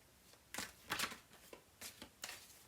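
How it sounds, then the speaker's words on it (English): Tarot cards are shuffled by hand in a quiet room: soft, faint riffling and sliding in several short bursts, close and alone. "I'm just sitting here, you know, shuffling"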